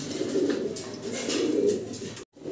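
A pair of Bombay pigeons in Andalusian colouring coo softly in low, rolling murmurs over a hissy background, with a brief dropout near the end.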